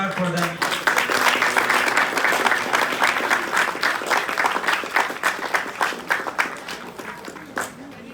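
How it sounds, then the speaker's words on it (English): A crowd of wedding guests breaks into sustained, fairly loud applause for a newlywed couple at a Hindu wedding ceremony, dense clapping that slowly thins out toward the end. "Round of applause for them."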